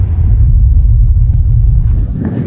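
Steady low road rumble inside a car on a 20-minute drive out of Windhoek, Namibia toward a sunset point at Avis Dam, loud and continuous with no talk.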